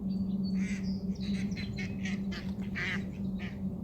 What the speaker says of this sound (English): Ducks are laughing at us.